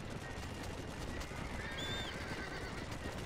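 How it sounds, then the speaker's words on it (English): A horse whinnies and its hooves clip-clop as it gallops up in the video game Red Dead Redemption, the neigh rising partway through over steady game ambience. "Just whistled my horse to come over."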